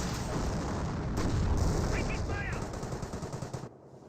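PIAT and mortar fire in a Company of Heroes match, a dense wash of battle noise with rapid gunfire and explosions, ending in a brief quick rattle, while a commentator talks over it.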